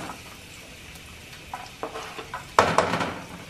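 Garlic hits melted butter in a pan with a soft, steady sizzle, joined by a few close clinks and scrapes of a utensil stirring, and no voices.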